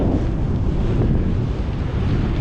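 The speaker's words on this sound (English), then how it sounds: "still going into a headwind" A steady headwind roars into the microphone during a bicycle ride near Gainesville, Texas, a loud continuous low rumble of wind buffeting with no talking.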